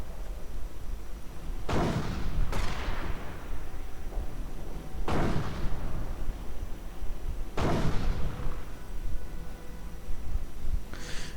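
Mortar rounds fire in a WWII strategy video game, four loud booming blasts at irregular intervals over constant battle rumble, with one more starting at the very end.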